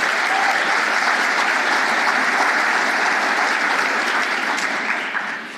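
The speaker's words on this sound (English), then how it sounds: "Give yourselves a round of applause." An audience applauds at a women's brain health lecture, a dense, sustained round of clapping that stays loud and even for several seconds before tapering slightly at the close.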